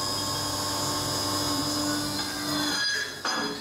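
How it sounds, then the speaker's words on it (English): A machine cutting metal stock gives a steady, high, whining drone with a grinding edge that runs continuously. The pitch shifts briefly near the end. "let's go to the machine. I've got to cut some stock first."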